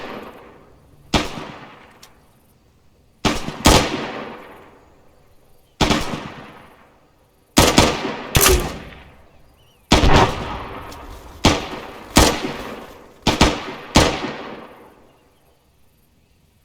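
Rifle shots ring out in a video game, about ten sharp reports spaced roughly a second or two apart, each with a loud crack and a fading tail, with no talk.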